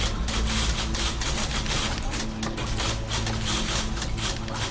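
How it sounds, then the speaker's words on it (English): Typewriters clacking in the video game The Beginner's Guide, a dense run of rapid mechanical key strikes and clatter with faint low tones underneath, steady and close throughout. "I hear typewriters."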